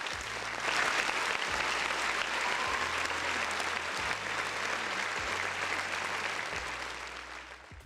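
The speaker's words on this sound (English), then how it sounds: "Round of applause for the folks in the chat." A crowd applauds steadily and loudly for several seconds, a dense wash of clapping that tapers off slightly at the end.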